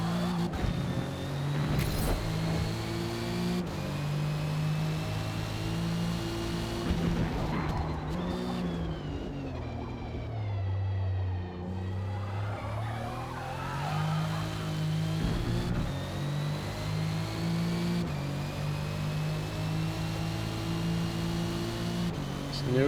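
The racing engine of a Cadillac Blackwing in a video game drones loudly and holds a steady pitch, with a dip and a rise in revs partway through. Someone talks over it.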